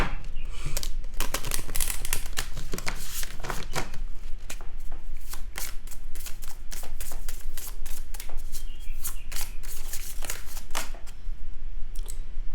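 A deck of oracle cards is shuffled close up in continuous rapid riffling and flicking bursts of crisp paper slaps that run the whole length without pause.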